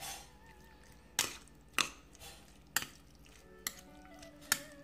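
Chicken bistik is stirred in a pan, with a spatula scraping and knocking against the metal in five sharp, spaced strokes over a soft, quiet sizzle, close up and with no talking.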